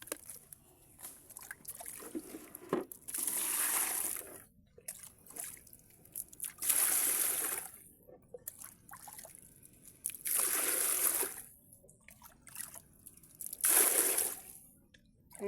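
Water from a hose runs into a cooking pot outdoors in short, separate bursts, each splash and trickle lasting a second or two between quiet pauses with faint dripping.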